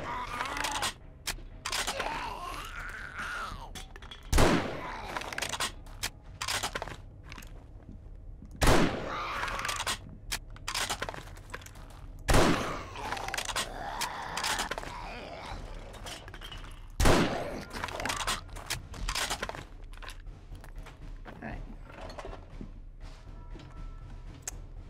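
Gunfire from the survival video game 7 Days to Die: four loud, sharp shots spaced several seconds apart over a continuous in-game ambience, with a little talking between them.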